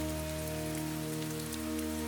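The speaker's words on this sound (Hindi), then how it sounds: "बारिश शुरू हुई।" Steady rain falls on a surface as a continuous, even hiss with no pauses. A low background hum sits under it, and no one talks.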